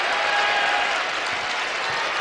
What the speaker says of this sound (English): Little Bronx cheer from the Louisville crowd.